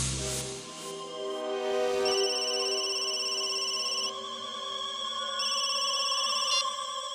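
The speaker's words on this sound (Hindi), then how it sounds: "उसके मोबाइल पर एक कॉल आया था" A mobile phone rings with an incoming call, a steady electronic ringtone of sustained tones that shift pitch in repeating phrases, clear and alone without speech.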